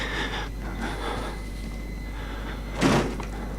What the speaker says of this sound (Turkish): Kapat şu kapıyı.